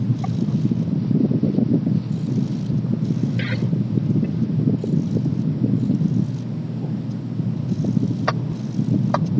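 Strong outdoor wind on a very windy day during friction fire-making with a yucca stalk hand drill, heard as a steady, loud low rumble of gusts buffeting the microphone throughout, with a few faint higher crackles.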